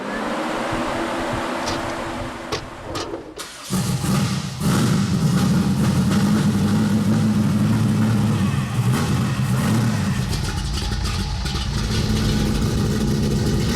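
Chevy 454 V8 in an '85 Monte Carlo cranks, catches with a thump and fires up, then settles into a loud, rumbling run with blips of revving, close to the car.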